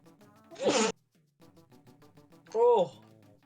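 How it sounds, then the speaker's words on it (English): A single sharp sneeze bursts out loud and close, followed by quieter talk and another brief loud vocal outburst near the end. "It was a sneeze."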